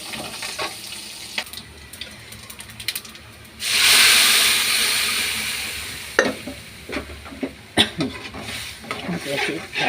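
Dried chillies and curry leaves are tempered in hot oil in a home kitchen. A loud sudden sizzle bursts up and slowly fades, with scraping and stirring noises before and after.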